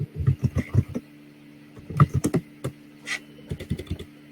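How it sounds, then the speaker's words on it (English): Loud typing on a computer keyboard during an online meeting: close, sharp key clacks in quick bursts separated by short pauses, with no talking over them. "I don't know if you're typing. You're a loud typer."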